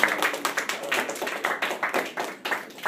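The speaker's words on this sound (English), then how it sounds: "Give him an applause, guys. Come on. Clap it up." Students in a high school classroom clap for a performer, a small group's scattered, uneven handclaps sounding close and fairly quiet, with distinct individual claps.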